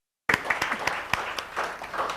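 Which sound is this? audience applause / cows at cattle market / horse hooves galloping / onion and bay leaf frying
audience applause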